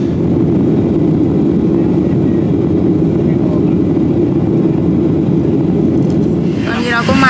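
Steady, loud airliner engine drone fills a cabin or jet bridge while boarding a flight to Seattle, with a constant low roar throughout and a brief higher rattle near the end.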